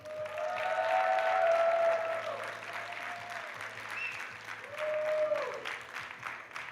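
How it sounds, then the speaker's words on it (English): An audience at a researchers' grand prix event applauds steadily for several seconds, with a few whoops and voices rising over the clapping. "So please make some applause for Juline, Perrot, Lucille, Carette, and Lucie Martin."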